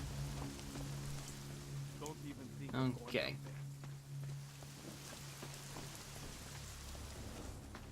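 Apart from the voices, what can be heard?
rain in the video game Deus Ex: Mankind Divided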